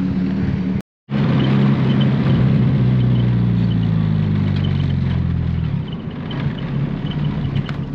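A bagged turbo B20 VTEC Honda EG hatchback driving, its engine a steady low droning rumble with a rising tone that fades to a smoother road roar after a brief cutout near the start.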